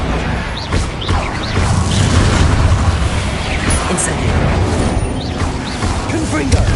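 Confringo and Incendio spells erupting in Hogwarts Legacy, a run of heavy booms and crashing bursts with whooshing fire streaks, dense and loud throughout, mixed with spoken spell incantations.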